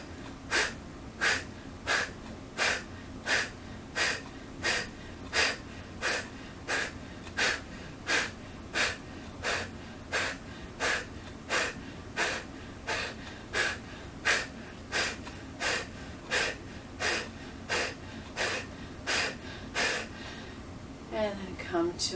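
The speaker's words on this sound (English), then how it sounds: "breathing in passively, filling the belly and lungs, and then quick breathing out" Rapid breathing exercise with quick, forceful exhales during a gentle shoulder therapeutic exercise flow, about thirty sharp, evenly spaced breath bursts roughly every 0.7 seconds, close and steady, ending with a brief softer breath.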